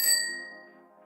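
A bright notification bell dings once, a clear metallic chime that rings out and slowly decays over about a second, alone with no talking.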